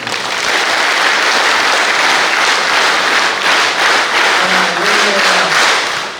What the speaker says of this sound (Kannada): ಅವರು ವಿಶೇಷವಾದ ಚಪ್ಪಾಳೆ ಕೊಟ್ಟಿದ್ದಾರೆ.